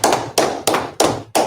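Five sharp hand claps at a steady, slightly slow rhythm, loud and close, each ringing briefly before the next, with no talk between them.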